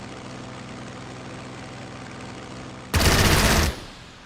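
Brief loud burst of Stuka strafing gunfire in the World War II strategy game Strategic Mind: Blitzkrieg, a dense rapid rattle lasting under a second over a steady droning aircraft engine.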